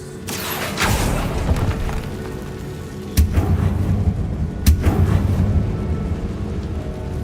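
Fire spell Incendio cast in the game Hogwarts Legacy, a crackling whoosh of flame that rolls on steadily, with two sharp bursts cutting in partway through.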